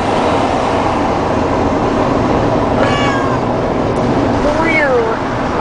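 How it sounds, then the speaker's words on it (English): Upset cats meow from the back of a moving truck, two or three short cries rising over a loud, constant road rumble. "the kitties back there are all upset"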